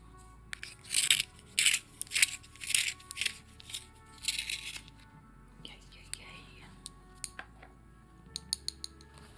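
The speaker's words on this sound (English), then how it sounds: "Let's give it a quick sharpen." A coloring pencil sharpened in a series of short rasping bursts, close and fairly quiet, followed by a few faint ticks and taps.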